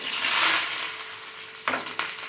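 Steady crackling sizzle of mustard seeds in hot sesame oil, loud at first then easing, with a couple of sharp pops and clinks near the end.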